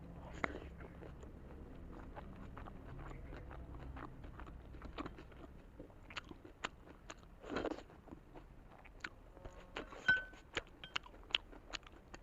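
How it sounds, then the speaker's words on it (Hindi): Quiet close-up chewing of the last bite of a big momo dumpling, with soft crunches, mouth clicks and wet smacking sounds spread irregularly throughout, a few louder snaps near the end. "guys this is the last bite"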